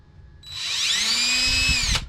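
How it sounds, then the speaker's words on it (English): Power drill boring a shallow quarter-inch pilot hole into a plastic skeleton bird, a short whining spin-up that holds steady for about a second and a half before cutting off. "you have to drill it just a little bit, maybe 1/4 inch"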